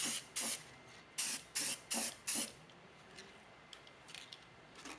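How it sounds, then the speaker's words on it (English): Primer sprayed in a light coat during a BMY vehicle rebuild: six short, sharp hissing bursts from a spray can in quick succession, close and alone, then fainter intermittent spritzes. "So I give this a nice light coat of primer."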